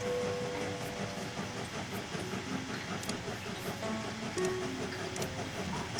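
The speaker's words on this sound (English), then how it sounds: "Stop this train right about here, and that should do it." A train rolls along in the video game Train Valley, a continuous mechanical rumble with faint hissing and clicking, steady and moderately quiet throughout with no talking.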